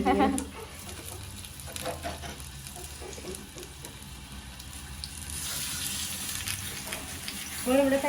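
Soft sizzling of kuzhi dosa batter frying in a pan, with faint clinks and a brief splash of running water, quiet and close.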